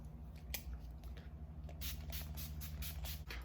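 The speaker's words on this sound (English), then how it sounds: "So I am going to set my face using my NYX Radiant Finish setting spray." NYX Radiant Finish setting spray is misted onto a face in a string of quick, hissing spritzes, a single pump first and then a rapid run of bursts, close and fairly soft.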